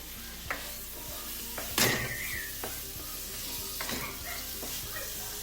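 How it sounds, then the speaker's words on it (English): Diced tomatoes dropped into hot oil for fish gravy burst into a loud sizzle, then settle to a steady frying hiss with several scraping stirs of a spoon in the pan, no talk. "I am going to add the diced tomatoes to that."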